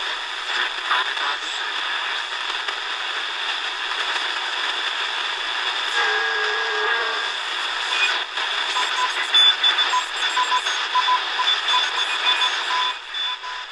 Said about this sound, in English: Got some CW there, it looks like.